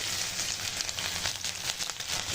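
Chopped onions and green chillies fry in about three tablespoons of hot oil in a kadai, giving a loud, steady, dense sizzle that runs unbroken throughout with no talking.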